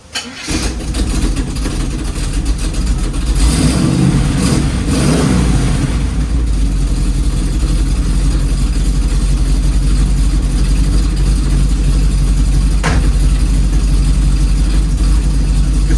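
An old 350 V8 in a 1936 Chevy cranks and fires up loudly, revs a few times, then settles into a steady, rumbling idle close by.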